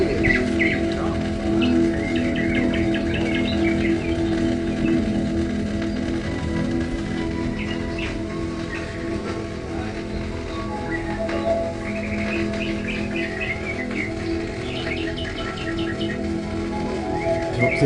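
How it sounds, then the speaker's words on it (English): Birds chirp and tweet faintly on an old gramophone record of an opera, their bright calls coming in scattered bursts above a steady hum of music and surface noise. "I don't think the birds are usually so prominent in the opera"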